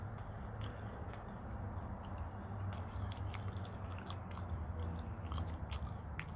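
A raw Anaheim (California) chile pepper is chewed close to the mic, with soft wet crunching and squishing bites under a steady broadband background noise.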